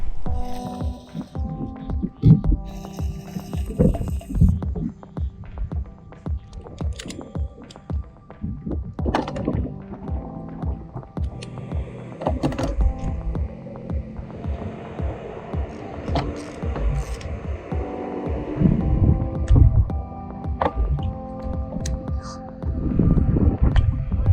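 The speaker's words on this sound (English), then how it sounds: "turn the engine over to get everything lubed up" An outboard motor that sat unused for 12 years is turned over with its spark plugs pulled, giving uneven, rhythmic thumping and throbbing pulses close to the microphone.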